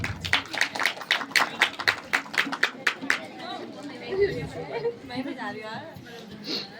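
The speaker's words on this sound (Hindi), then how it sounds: "तो जोरदार तालियों के साथ यहां पर स्वागत" Rhythmic clapping from a crowd at a Ramlila committee prize-giving ceremony, welcoming an award presenter, rises and settles into general murmuring, with a voice speaking over the noise.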